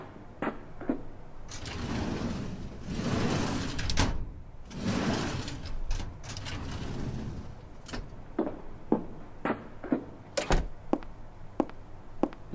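Metal filing cabinet drawers are opened one after another, giving a series of sharp clacks and sliding rumbles, with longer rolling slides near the start and crisp metallic knocks later, close and fairly loud with no talking.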